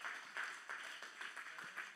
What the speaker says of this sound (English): Somebody clap right now.